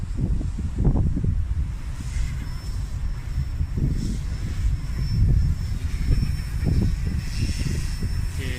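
A Goosky S2 RC helicopter flies in 6-axis gyro mode outdoors in strong wind, its steady high-pitched rotor whine running continuously under heavy gusting wind rumble.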